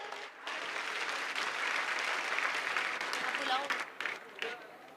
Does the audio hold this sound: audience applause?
yes